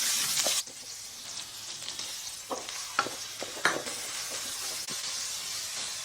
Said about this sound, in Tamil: இடிச்ச சின்ன வெங்காயத்தை சேர்த்து லைட்டாக வதக்கிட்டு